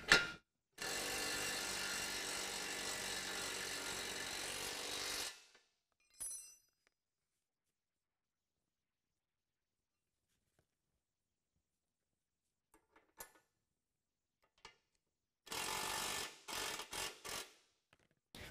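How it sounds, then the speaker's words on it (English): A 22 mm wrench snugs the fender bracket bolts on a DK2 Mighty multi-utility trailer. Two faint bursts of rapid ratcheting clicks are separated by a long quiet stretch with a few scattered taps. "We're going to use a 22 millimeter on each side, but we don't want to get it too tight."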